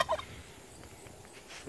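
Royal Palm turkeys let out a short, close gobble right at the start, followed by quieter faint clucks and outdoor background noise.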